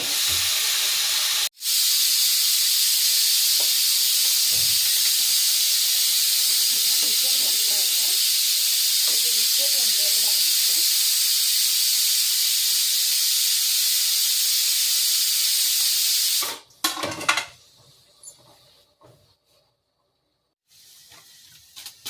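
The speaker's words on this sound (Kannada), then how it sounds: "ಇದು ನೀಟಾಗಿ ಫ್ರೈ ಆಗಲಿ" Grated coconut frying in a pan on a stove, cooking for a village-style drumstick-leaf bassaru: a steady loud hiss and sizzle for about sixteen seconds, then it cuts off abruptly, leaving faint clatter.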